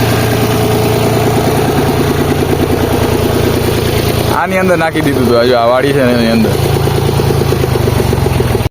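A tractor that had sat unused for eight months runs on a farm plot after off-roading, its engine thrumming loud and steady in a low rhythmic idle while someone talks over it.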